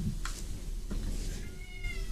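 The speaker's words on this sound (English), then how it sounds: "oh, I hear the kitty's back." A cat meows indoors, two or three short, distinct calls at moderate volume over a low room hum, with no one talking.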